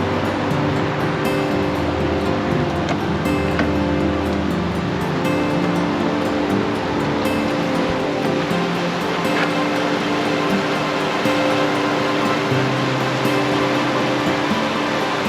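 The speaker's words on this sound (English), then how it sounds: "Check out the river." River water flowing beside a bike trail near a highway bridge in Breckenridge, Colorado, a steady, dense rushing wash that holds constant and fairly loud throughout, with no voices.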